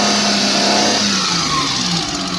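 A used car's engine is revved during a pre-purchase check under the open hood, producing a loud, steady mid-pitched engine drone that rises slightly and holds, close up with no speech.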